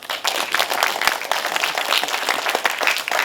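Audience applause at a lecture held in a Lotte Cinema hall, a dense steady wash of many hands clapping throughout, moderately loud with no talk.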